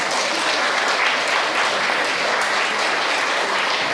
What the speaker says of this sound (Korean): 우리 모퉁이 떨 위해서 박수 한번 하겠습니다.